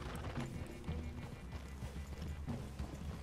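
Horse hooves clopping softly at a walk in the Red Dead Redemption 2 video game as riders approach a forest clearing, faint and steady, with low game ambience.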